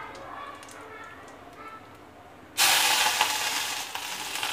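Mustard seeds, curry leaves, hing and a green chili-garlic paste dropped into hot oil: quiet crackling and a voice at first, then a sudden loud, broad sizzle bursts up and continues close and strong.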